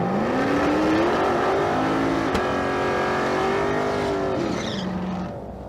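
A Mustang drag car at the Street Car Super Nationals in Las Vegas launches hard with a wheel stand. Its engine roars loud and close, climbing in pitch through the gears before fading as it pulls away down the strip.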